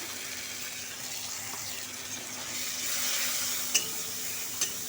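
Water and ground cumin go into hot oil with ginger and turmeric in a pan, raising a steady hissing sizzle that swells midway, with a couple of brief sharp clicks near the end.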